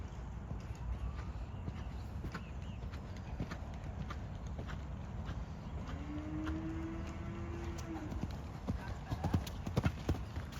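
A horse's hooves beat in a steady, rhythmic canter on an arena surface during riding practice, fairly close and continuous throughout, with faint background sounds.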